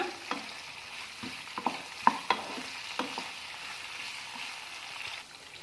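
Ingredients for a red chutney for masala dosa are roasted in a pan, making a soft frying sizzle broken by sharp scrapes and clacks of a spoon stirring at an irregular pace.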